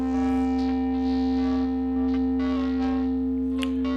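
Yamaha SY99 FM synthesizer patch sustaining a steady, harmonically rich tone, with looped operator envelopes adding shifting, pulsing overtone movement and bright swells on top; heard alone, fairly loud, with no talking.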